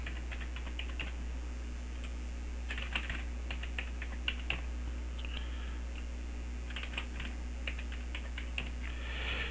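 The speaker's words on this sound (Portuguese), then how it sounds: "Aqui eu não quero gerar senha, eu quero digitar manual." A password is typed on a computer keyboard in quick clusters of light, close key clicks with short pauses between them, over a low steady electrical hum.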